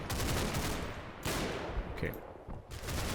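Gunfire in the video game Combat Mission: Battle for Normandy, a continuous rattling fusillade of overlapping shots from both sides, with a brief spoken word over the din.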